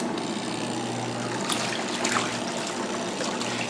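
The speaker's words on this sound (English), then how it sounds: "The machine just reached the maximum water level and I'm gonna turn it on." A Mueller SuperPop washing machine filled to its maximum water level runs, a steady low motor hum with swishing, trickling water churning close by, a couple of brief splashy surges standing out.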